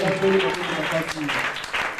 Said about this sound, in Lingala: acclamez très fort ici